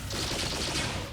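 A brief, loud flurry of rapid blaster shots aimed at a droid in Star Wars: The Old Republic (SWTOR), crackling densely for about a second with no talk over it.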